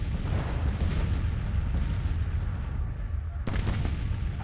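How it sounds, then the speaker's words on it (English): Howitzer fire in Grand Tactician: The Civil War rumbles continuously as a dense, distant wall of booming cannon, with a few sharper reports standing out from the low roar. "Our howitzers are still shooting onto the enemy."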